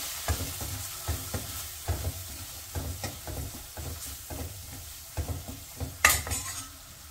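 Spices, red chilli powder, turmeric and coriander powder being stirred into dal in a pot for dal bati, with a spoon scraping in a steady rhythm of repeated strokes over a soft sizzle, close and moderately loud.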